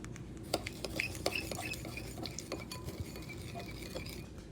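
A spoon stirs sugar and water in a cup, clinking against it in quick, irregular taps over a steady background hiss.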